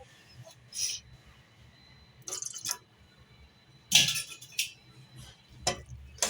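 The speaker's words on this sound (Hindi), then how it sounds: "और इसका हम चम्मच चलाते रहेंगे।" A spoon stirring Kashmiri pink tea in a pot gives a few sparse, bright metallic clinks and taps spread across several seconds, close but fairly quiet against a low background hum.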